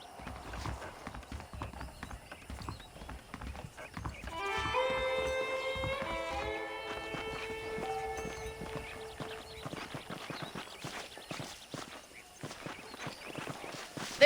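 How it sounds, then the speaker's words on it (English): Horse hooves clip-clop steadily on hard ground in Red Dead Redemption, with a horse's whinny partway through and light game ambience behind. "The horses are saddled up over here."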